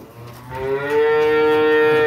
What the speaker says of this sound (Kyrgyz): Ушул уй сатылат.